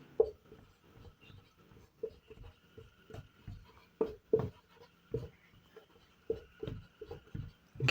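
A red pen writes during a classroom lesson, giving soft, close scratching strokes in short irregular bursts, with quiet pauses between the strokes.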